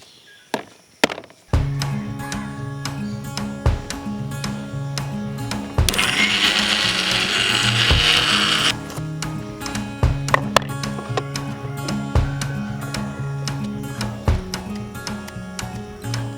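A mixer grinder churns henna leaves into paste, its motor running in bursts with a roaring stretch in the middle, separated by clicks and knocks as the jar is handled between runs.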